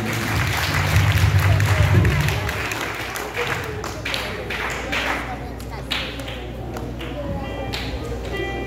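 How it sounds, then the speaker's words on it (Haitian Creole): Applause for a battalion at a church ceremony of the Assemblée des Premiers-Nés: a steady patter of many hands clapping, fairly loud at first and then continuing at a lower level beneath people talking. "maintenant nous capable encore une fois applaudir bataillon de Dieu la Assemblée des Premiers-Nés"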